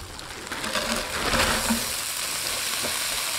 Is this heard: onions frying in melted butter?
yes